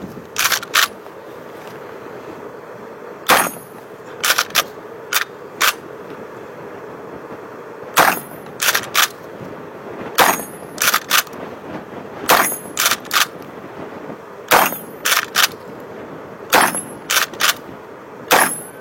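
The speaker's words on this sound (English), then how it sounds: "It's a cool gun." Gun firing a series of sharp shots outdoors, loud and close, in clusters of two to four rapid cracks spread across the clip with pauses between bursts.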